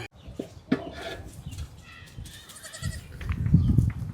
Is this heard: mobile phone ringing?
no